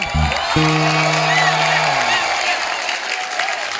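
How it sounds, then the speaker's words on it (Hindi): Studio audience applause and cheering on a comedy talk show set fill the whole stretch as a dense, steady wash, with a brief musical sting near the start and a voice briefly over it. "जोरदार तालियां."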